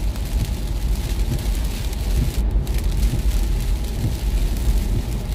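Rain drums steadily on a car while it is driven home on the last stretch of road, a dense, continuous patter over low road rumble, loud and close with no voices.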